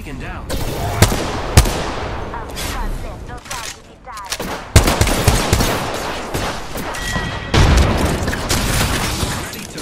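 Gunfire in the video game Apex Legends: bursts of automatic weapon fire and sharp single shots with booming impacts, loud and close, mixed with game sounds and some voices talking over the action.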